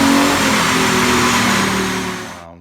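A car with a custom-tuned Chevy 383 Vortec V8 on stock Vortec heads, fitted with a cam, valve springs and screw-in studs, roars at sustained high revs on a dyno, then quickly winds down at the end.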